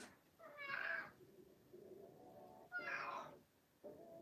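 A cat meows repeatedly, wanting to be let outside: three drawn-out, insistent calls close by, each loud and alone with short gaps between.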